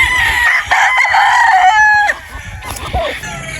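A broodstag rooster crows loudly and close by, a long rising-and-falling call, followed by shorter clucks and squawks from the surrounding chickens.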